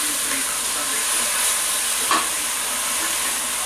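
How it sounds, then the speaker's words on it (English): Short ribs sear in a hot pressure cooker, a loud continuous sizzle and hiss of frying meat with a brief spike of spattering near the end, no talking over it. "So we're going to let those brown for a couple of minutes."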